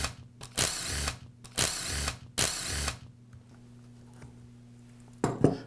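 Three bursts of a power screwdriver whirring close by as screws are removed from a DeWALT drill's clutch and chuck assembly, evenly spaced, then a quiet pause before a brief fourth start.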